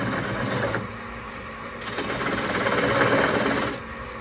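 A wood lathe turns a magnifying display box as a decorative shape is cut into it, a steady whirring drone with scraping and rasping swells from the tool, near and continuous with no talk.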